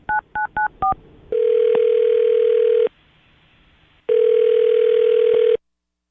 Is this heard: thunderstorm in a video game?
no